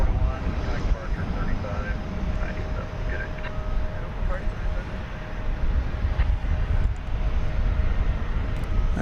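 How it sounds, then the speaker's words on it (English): An American Airlines Airbus A321, Flight 1168 bound for Denver, sits ready for takeoff at DFW Airport, its engines producing a steady, loud broadband rumble with a faint tonal whine, as people talk over it. "I think we're looking at American Flight 1168 to Denver, an Airbus A321, which is pointing in the right direction to take off."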